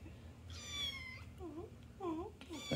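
Domestic cat meowing close by, one drawn-out meow followed by a few shorter chirping mews, fairly quiet over low room noise.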